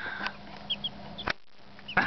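Newly introduced chicks give a few short, scattered chirps and clucks, close by and moderately loud, separated by sharp thumps and brief pauses.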